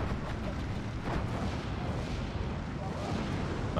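Bombs bursting across a battlefield in the Steel Division 2 war game, a dense rumbling roar of blasts and distant gunfire rolling continuously with a faint voice underneath.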